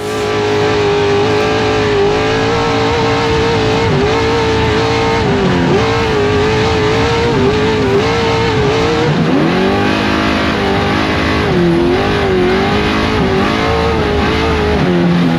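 Off-road race truck at the Baja 400 accelerating hard, its loud engine note rising and dipping through gear changes and revs, continuous and close for the whole stretch with no talk.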